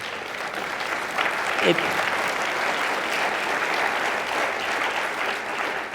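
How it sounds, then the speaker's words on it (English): A large audience at a conversation event applauds steadily, a dense wash of clapping that holds at even loudness throughout, with a brief voice rising through it midway. "that does deserve a huge round of applause"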